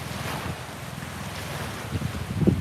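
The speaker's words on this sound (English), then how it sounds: "the wind will always be a thing" Coastal wind on Oahu rumbles close across the microphone in a steady low roar, with surf washing underneath and a few stronger gusts toward the end, no voices.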